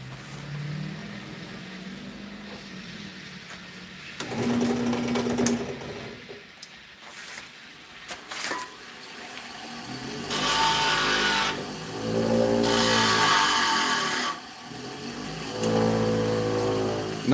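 A thin woodturning parting tool made from a saw blade is sharpened on a grinder, giving several bursts of harsh grinding that rise and fall with brief pauses between passes, fairly close and moderately loud.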